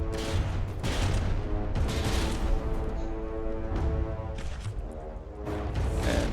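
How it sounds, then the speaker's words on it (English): Warship guns firing in a naval battle game, a rapid series of booming shots and rumbling blasts layered close together, loud and continuous with no talk. "rear guns fired"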